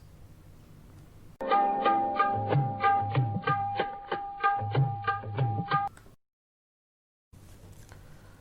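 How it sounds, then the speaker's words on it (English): Hand drums play a lilting uneven Rupak (Misra Chapu) rhythm cycle of Indian music with a sustained melodic drone on top, stopping abruptly before a short silence. "A Rupak or a Misra Chapu would sound something like this."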